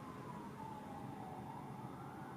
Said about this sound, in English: Why is there always an ambulance outside of my window?